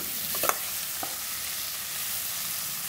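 Ridge gourd and chili frying with spices in oil, a constant soft hiss of sizzling with a couple of quick stirring scrapes near the start, then an even fry alone.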